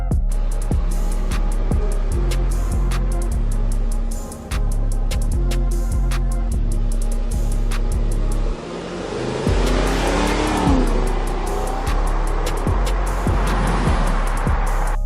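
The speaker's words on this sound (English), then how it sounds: "Have a listen to how the 600 horsepower SL twin-turbo engine should sound like." A 2022 Mercedes-Benz SL twin-turbo V8 of about 600 horsepower, loud and close, holding a steady rumbling drone, dipping briefly, then rising into a harder rev with a rough, crackling surge.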